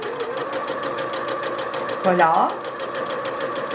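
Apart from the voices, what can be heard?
sewing machine stitching at increased speed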